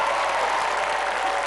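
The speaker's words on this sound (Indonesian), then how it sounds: "Tepuk tangan untuk Mas David." Dense, steady applause from a studio audience at a game show fills the whole stretch evenly, with a faint murmur of crowd noise beneath it.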